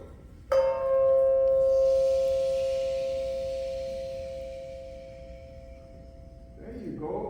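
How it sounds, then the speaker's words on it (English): One bell, struck a single time for a classroom mindfulness exercise, rings out clearly and close, then holds a long pure tone that fades slowly over several seconds before a voice begins speaking at the end. "I'm going to ring the bell one more time."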